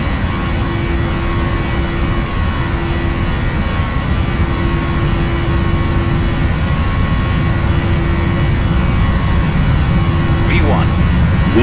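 A jet airliner engine in Flight Simulator X runs up at takeoff throttle, a loud continuous roar with a steady tonal whine held throughout, close and unbroken, without any voices.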